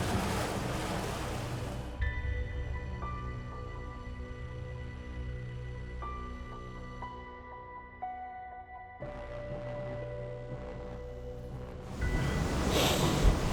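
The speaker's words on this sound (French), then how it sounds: "on vient de traverser une petite passe de vagues avec une tempête de neige" Waves slapping a small boat on Lake Ontario in a snowstorm, with steady rushing water and wind noise throughout and louder surging bursts at the start and end, accompanied by faint steady tonal hum from the boat.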